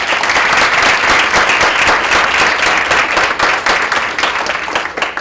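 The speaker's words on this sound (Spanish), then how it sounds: "Les pido un aplauso para las dos." A seated audience gives a brief, dense round of applause, loud and even throughout with no voices over it.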